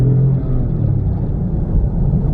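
A car engine rumbles loudly and steadily at low pitch, a continuous close idle with a slight rise, no voices.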